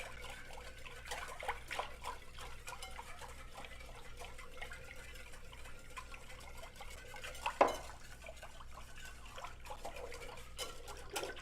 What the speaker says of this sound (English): You want to try to whisk as fast as you can.